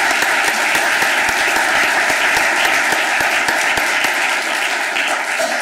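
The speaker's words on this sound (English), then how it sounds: "So I think everyone here needs to give you a round of applause." Sustained audience applause at a school board candidate forum, a steady, full wash of clapping from a roomful of people that continues throughout without letting up.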